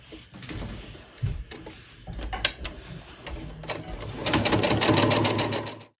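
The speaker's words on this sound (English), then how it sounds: "Then I'll spin it around and sew the next strip on, and repeat that until I've sewn all the strips together." Sewing machine stitching fabric strips together for a Christmas sewing project: a close, steady mechanical whir with rapid needle chatter that builds in speed and loudness toward the end, with no talk.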